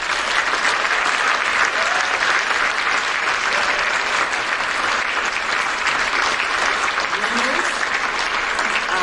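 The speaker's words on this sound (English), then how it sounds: "let's give another round of applause for all of the 2023 191 Community of Excellence Awards" A large audience at a 2023 Community of Excellence awards ceremony applauds loudly and continuously, a thick, even wash of clapping with a voice speaking over it.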